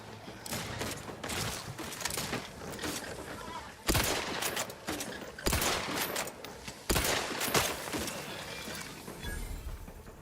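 Gunfire in The Outer Worlds 2 during a firefight: rapid volleys of shots with several sharp, louder bursts standing out over continuous battle noise at moderate distance.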